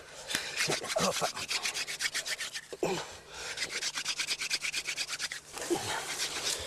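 Green, wet timber is rubbed hard for a friction fire outdoors in the bush, producing rapid rhythmic scraping strokes in close bursts with brief pauses between runs.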